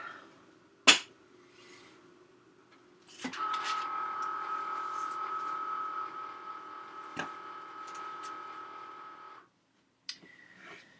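A craft cutting machine fitted with a scoring blade scores and cuts a box template: a sharp click, then a steady whirring motor hum for about six seconds with small ticks, stopping abruptly before a final click.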